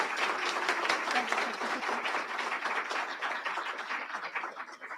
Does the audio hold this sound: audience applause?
yes